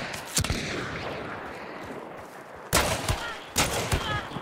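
Gunfire in the Hunt: Showdown video game, with a sharp shot early on and two loud bursts of firing later over a noisy ambient backdrop.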